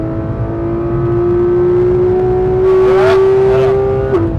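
A Porsche GT3 RS engine pulls hard on the Nürburgring circuit, a loud, close in-car tone climbing steadily through the rev range before a brief dip near the end.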